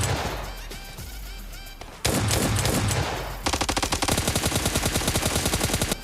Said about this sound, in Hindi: इस 12K बहुत खतरनाक सा गन है भाई